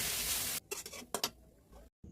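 Grated carrot meets hot oil and ghee with a brief hissing sizzle, then a few soft clinks and scrapes of stirring, followed by a short silence.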